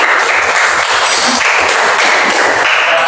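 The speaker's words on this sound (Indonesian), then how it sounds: "terima kasih tepuk tangan buat kelompok Andre" A group of people, such as a class, claps loudly and steadily for a student group, with the clapping holding close and dense throughout.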